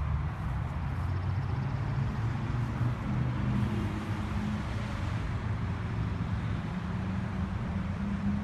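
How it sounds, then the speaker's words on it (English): Loud, steady road traffic rumbles beside Horse Park in Washington, a dense low roar of passing cars with wind buffeting the microphone throughout, and no voices. "The loud traffic."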